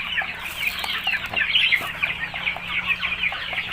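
Free-range native chickens and chicks on a farm cluck and peep continuously in a busy, close chorus, with occasional wing flaps and a low background hum.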